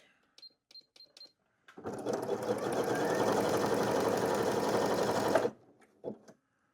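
Sewing machine stitching a wide zigzag while making a cat bed: a few light clicks, then a steady loud whirring run of about four seconds that stops abruptly, followed by a couple of brief clunks.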